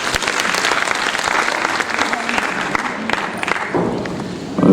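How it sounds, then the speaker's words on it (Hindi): Loud, dense audience applause at a Hindi literary award ceremony, sustained clapping from a large gathering that tapers slightly near the end. "तालियों के साथ अभिनंदन।"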